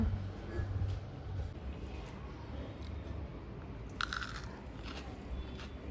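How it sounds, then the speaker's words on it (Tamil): Someone bites into freshly made crunchy potato fries, with a few loud, close crunches and chewing over a low background rumble and no speech. "பொட்டேட்டோ ஃப்ரை ரெடி ஆயிடுச்சு. இப்போ சாப்பிட்டு பார்க்கலாம் எப்படி இருக்குன்னு"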